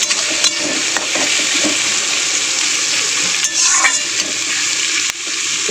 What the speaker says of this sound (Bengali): পেঁয়াজটা আগে একটু লাল করে ভেজে নেব।